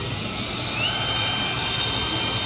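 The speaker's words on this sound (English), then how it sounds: "Show y'all a little trick we learned for drilling holes." A power drill whines steadily and loudly at close range, a continuous high-pitched motor drone with no pauses.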